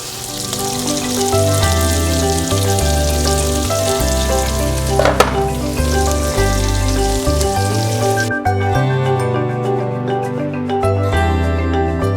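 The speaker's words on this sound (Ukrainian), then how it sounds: "До майже рум'яної грудинки додати нашу цибулю в повному об'ємі. І також смажити, помішуючи до м'якості цибулі" Oil sizzles steadily as onions fry with pork belly, a constant crackling hiss laid under prominent background music; the sizzle fades out near the end.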